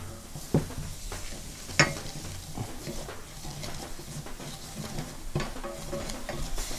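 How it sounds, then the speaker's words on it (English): Cheese stirred into a hot mac and cheese sauce in a pan, with faint soft stirring and bubbling punctuated by a few sharp utensil clinks against the pot. "So right now we'll go ahead and add the cheese."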